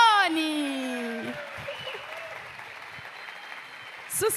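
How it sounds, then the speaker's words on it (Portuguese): Applause and cheering from a crowd at an entrepreneurs' breakfast event as a speaker is introduced, loud at first then settling into steady clapping, with a burst of whoops near the end. "Aplausos, uivos e gritos para Rodrigo Janone."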